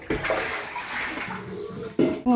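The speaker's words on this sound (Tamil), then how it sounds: "கொஞ்சம் தண்ணி இருக்குது ஃபஸ்ட்டு அதை நாங்கள் க்ளீன் பண்ணிடலான்ட்டு க்ளீன் பண்ணுறோம்" Water sloshing and splashing inside a water tank as it is cleaned, a continuous wet wash with a couple of louder splashes near the end, close by and with no talking.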